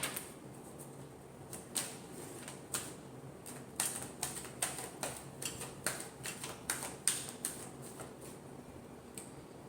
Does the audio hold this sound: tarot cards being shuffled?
yes